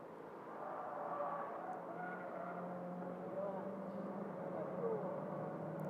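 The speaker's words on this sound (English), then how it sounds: "Car number 12 and 23 are having their own battle now, Firhat and Tengku Jan." Toyota GR86 race cars in a one-make series race lap through corners on a Malaysian circuit, engines droning steadily at a distance with a faint tire squeal, under commentator speech.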